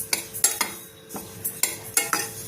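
Sesame seeds and peanuts roasting in a pan over a medium flame, stirred with a utensil in quick, sharp, gritty scrapes, roughly eight strokes in an uneven rhythm, loud and close, with no talking.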